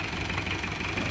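A 1994 Isuzu Panther Miyabi Long engine idles up close, a steady, even rumble with a fine rhythmic knock running through it, loud and alone.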